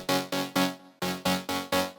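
A synth lead built on perfect fifths in a tech house drop punches out six bright, rhythmic stabs, each with a sharp attack and quick decay, loud and alone.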